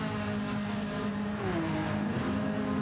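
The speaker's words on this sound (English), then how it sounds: "You can hear how low the revs are in that Porsche" A Porsche race car runs low in its revs on the Daytona road course, a steady droning engine note that holds level and shifts slightly in pitch partway through, with no talk over it.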